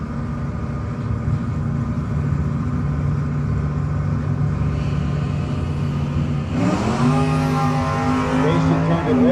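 Chevrolet S10 and Camaro drag race cars at a no-box 660 shootout, engines droning steadily at idle and staging, then both revving hard into a loud launch with rising, overlapping engine pitch near the end.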